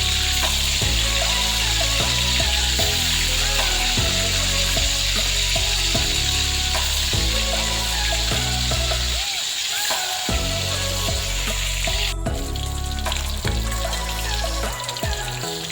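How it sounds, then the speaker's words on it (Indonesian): Pomfret fish fry in hot oil for a balado dish, giving a loud, continuous sizzle and crackle close up, with background music playing throughout. "Setelah itu aku goreng ya, aku goreng semua ikannya"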